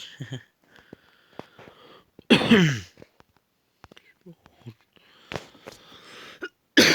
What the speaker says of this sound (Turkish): Bir, bir öksürük var.